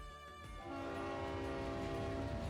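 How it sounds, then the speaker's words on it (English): A train engine's horn sounds in the game Goddess of Victory, a sustained, loud, harmonic blast that starts after a brief clatter and holds steady to the end, alone, with no speech. "Sound of the engine signals the start of the journey."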